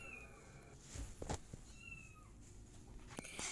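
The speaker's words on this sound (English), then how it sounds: "so there's a small cat" A small cat meows in a video game, a few faint, short calls rising briefly over a quiet game background with no talking.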